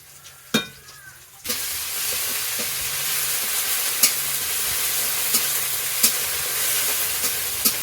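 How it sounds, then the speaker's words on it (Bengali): Ginger-garlic paste fries in a pan with onion, cumin and bay leaf. After a short quiet start, a loud, even sizzle sets in, broken by a few sharp spatula clinks while the paste is stirred. "আদা রসুনটা একটু ভাজা ভাজা হয়ে গেছে"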